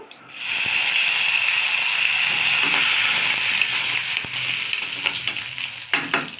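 Chillies and curry leaves dropped into hot oil burst into a loud, bright, crackling sizzle that holds steady, with occasional clicks and scrapes of stirring toward the end.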